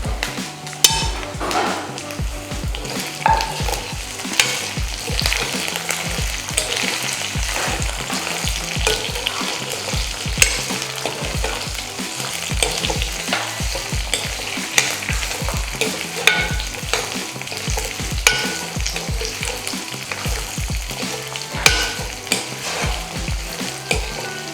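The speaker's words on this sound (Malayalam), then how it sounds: "പച്ചമുളക്, 4-5 പച്ചമുളക് ചേർത്ത് കൊടുക്കുകയാണ്." Green chillies and garlic fry in oil for a Kerala-style gooseberry pickle. A steady sizzle runs throughout, punctuated by rhythmic, close-up thumps and scrapes of stirring against the pan.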